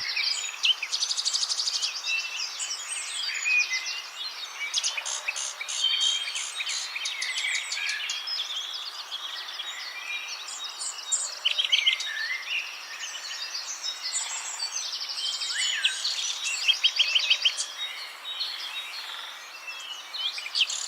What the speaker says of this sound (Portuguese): são as aves que transformam a Serra da Canastra em galeria viva de cores e sons